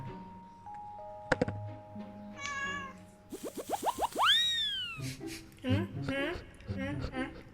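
A cat in a playful cat skit gives several clear, close meows mixed with cartoonish boing effects and bright tones, the calls coming in short bursts.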